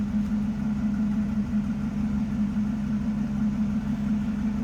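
A 1965 Ford Mustang convertible with the 289 V8 idles smoothly and steadily, a low, even hum heard up close without any talking.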